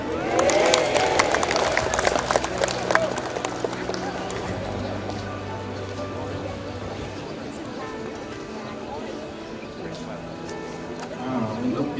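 An audience at a joint civil-servant assembly bursts into dense clapping that is loudest at first, then thins into a softer patter beneath a murmur of voices.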